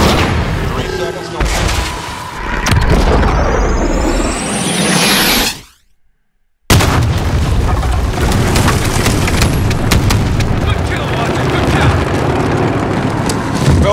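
Demolition charges go off in the Call of Duty mission Into the Furnace, a loud blast with a rushing sweep that cuts to a moment of silence, then heavy rumbling gunfire and combat noise under talk.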